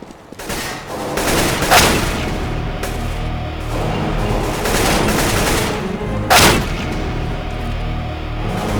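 Gunfire rings out in Counter-Strike: Global Offensive on the Dust 2 map. Rapid automatic bursts rattle almost continuously, with two louder, sharper volleys standing out, and no talking.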